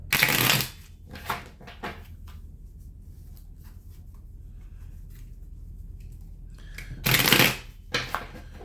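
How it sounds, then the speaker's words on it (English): A deck of tarot cards is shuffled in two quick riffling bursts at the start and again near the end, with softer card handling and taps in between. "I'm going to give the deck a quick shuffle"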